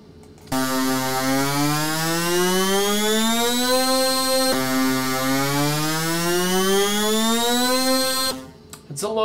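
A bright, buzzy 'sonic jet' synth patch built in Reason 6.5 plays two long rising sweeps, its harmonic-rich tone gliding upward like a siren, each sweep restarting from low pitch, loud and alone.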